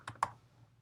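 Two quick, crisp keystrokes on a computer keyboard, close by, with a faint low hum underneath and no talking.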